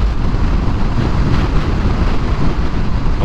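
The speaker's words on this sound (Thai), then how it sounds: "อุ้ยลมแรงมากครับตอนนี" Strong wind roars across the microphone while riding a Forza motorbike on a road, a loud, constant, rumbling buffet that drowns out everything else.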